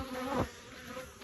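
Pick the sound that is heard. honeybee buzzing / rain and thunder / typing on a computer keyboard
honeybee buzzing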